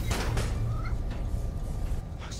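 A cat meows in the Spider-Man: Miles Morales video game, a couple of short, plaintive meows over low game ambience.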